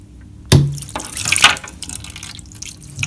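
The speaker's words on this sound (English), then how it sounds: "this is a full machine that I'm draining now" Water gushes out as a full Bosch Siemens washing machine with a failed pump is drained by hand onto a floor, a sudden splash followed by a steady trickling, dripping flow, close and moderately loud.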